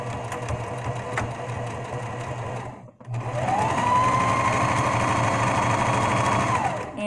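Sewing machine running a straight stitch close up, a steady buzzing whir that stops briefly around the three-second mark and then starts again, running louder until the end.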